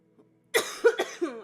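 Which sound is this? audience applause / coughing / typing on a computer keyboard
coughing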